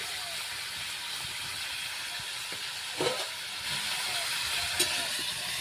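Cumin, coriander and other whole biryani spices fry in hot oil for a cauliflower potato biryani, giving a continuous close hiss with a soft clink near the middle and another near the end.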